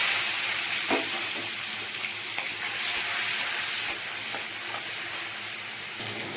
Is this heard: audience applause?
no